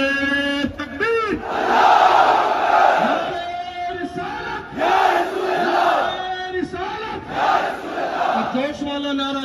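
A large crowd roars back a religious slogan in unison at a gathering, loud massed voices rising in repeated swells about every three seconds, each shout surging and then falling away.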